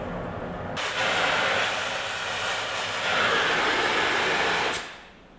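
A torch burns with a steady, loud roaring hiss as it heats a large nut red hot on a John Deere Amazon cane mill. The flame flares up abruptly, holds for about four seconds, then cuts off.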